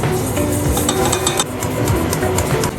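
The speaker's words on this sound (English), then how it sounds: "Machine kneading saves time and effort." A kneading machine working bread dough for European baking, producing a loud, continuous churning and slapping rumble with rhythmic mechanical knocks, close and steady with no voices.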